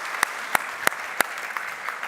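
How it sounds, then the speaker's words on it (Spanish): Church congregation applauding during a Spanish-language sermon service, a few sharp distinct claps standing out over a soft steady patter of hand-clapping, with no talk. "Dale ese fuerte aplauso al Señor."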